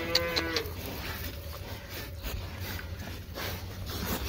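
Hogs being handed treats before training let out a few low grunting calls at the start, then quieter snuffling and shuffling continues over steady farmyard background.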